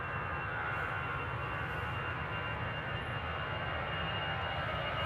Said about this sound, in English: Inaugural flight of the Emirates A350, isn't it?